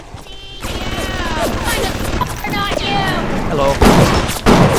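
Gunshots in the video game BioShock, several sharp bangs scattered through the clip, loud and close, mixed with game voices and clashing sounds, with a person speaking briefly over them.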